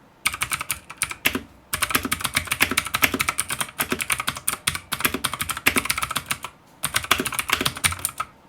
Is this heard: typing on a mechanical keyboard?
yes